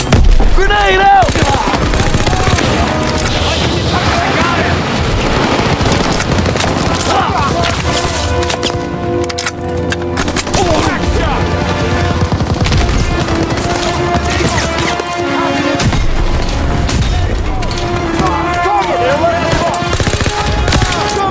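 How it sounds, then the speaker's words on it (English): Call of Duty WWII combat with a grenade blast amid dense machine-gun and rifle fire, loud, near and nearly continuous, with shouted voices over the battle. "Throw the grenade! Grenade! Grenade out!"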